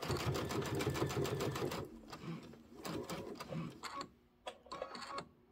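A sewing machine stitches quilt pieces in a quick, rhythmic run that stops after a couple of seconds, followed by a few short, separate clicks and stitches up close.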